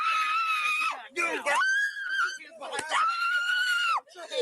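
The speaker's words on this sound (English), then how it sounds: "Now you got to listen to her scream for a minute here." A woman screams loudly and continuously during a police encounter, with long sustained wails that break briefly and then resume.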